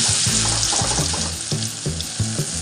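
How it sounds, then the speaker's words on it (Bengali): Whole cumin seeds sizzle in hot oil, a steady bright frying hiss with repeated low knocks and scrapes of stirring, close and alone with no talking. "একটু গোটা জিরে দিলাম।"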